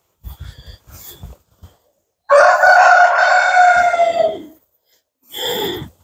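A rooster crows once, long and loud and close by, after a few short clucks and scratchy bursts, then starts another call near the end.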